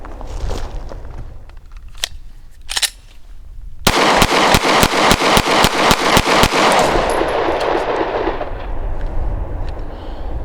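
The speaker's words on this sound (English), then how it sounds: "You know, typical Glock. It's gonna go bang every time we pull the trigger." Rapid string of loud, sharp gunshots from a Glock G43x compact pistol at an outdoor range, about a dozen evenly spaced cracks in quick succession, preceded by a few scattered distant shots.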